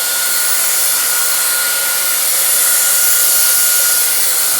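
A hair dryer runs on high speed with medium heat during pompadour styling, roaring in a loud, steady broadband blow for nearly five seconds with no voices.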